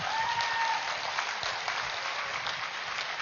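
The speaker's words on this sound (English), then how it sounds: "our dear Brahmarshi Patriji, let us give a huge round of applause." Steady clapping from a crowd at a meditation summit in India fills the whole stretch, dense and even, with a faint tone briefly sounding at the start.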